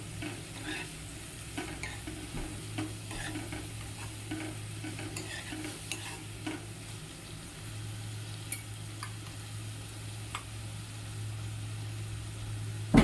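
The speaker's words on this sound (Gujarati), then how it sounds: "આપણે તેમાં થોડી એવી હળદર એડ કરવાની છે પછી તેને બરોબર હલાવી લઈએ" Turmeric being stirred into a brinjal mixture in a pan: soft, scattered scrapes and a faint frying hiss over a steady low hum, quiet and without voices.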